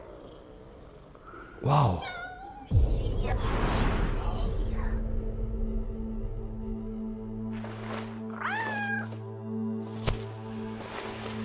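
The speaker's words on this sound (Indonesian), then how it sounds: "Kucingnya lucu juga ya." A cat in an animated scene gives several short meows, followed by a low sustained purr-like hum, with a voice briefly reacting.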